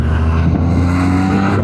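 Several motorbikes on a mountain road ride past together, a steady, loud engine drone with a rising rev partway through and no talk.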